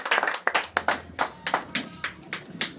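Congregation clapping in a church service, a dozen or so sharp, uneven bursts of handclaps in quick succession, fairly close, with faint voices murmuring underneath.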